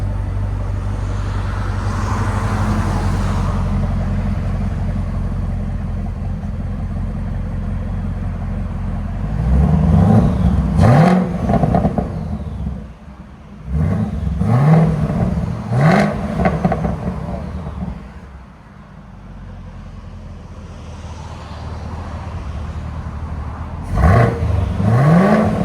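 A 2018 Chevy Camaro ZL1 supercharged V8 with high-flow cats idles with a deep, loud rumble, then revs sharply in several bursts that climb and fall, settling back to idle between them before a last quick blip.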